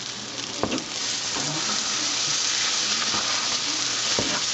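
Onions fry in a pan over raised heat for French onion soup, a steady loud sizzle close up with a few faint stirring clinks and no voices.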